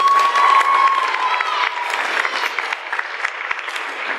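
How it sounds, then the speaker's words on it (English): An audience at a school awards show claps and cheers for a performer. Loud, continuous applause with whoops and shouts starts strong and slowly eases off while staying dense to the end. "So if you could please give a round of applause to the fabulous Kennedy"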